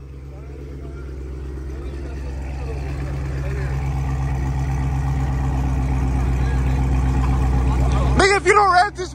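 A Dodge Challenger Hellcat engine idles with a low steady rumble that slowly builds, then sharp revving bursts break out near the end.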